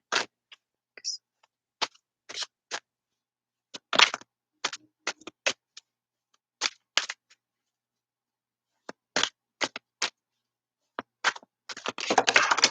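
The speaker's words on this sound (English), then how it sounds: "I guess I'm gonna go ahead and start shuffling." Tarot cards are shuffled in irregular, crisp bursts of riffling and slapping, with short quiet gaps between and a denser flurry at the end.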